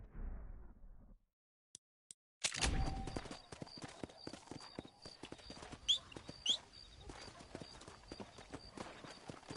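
Horse hooves clip-clopping in Red Dead Redemption, a quick irregular run of hoof beats after a brief near-silence, with a short whinny and light game sounds mixed in.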